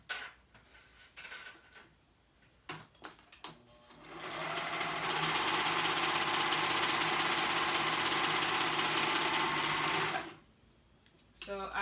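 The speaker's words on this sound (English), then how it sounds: "And you're going to sew that whole seam together. So you're gonna sew that sleeve into one." A sewing machine stitches a pajama sleeve seam, running steadily and loudly for about six seconds between quieter stretches of handling noise, starting and stopping cleanly.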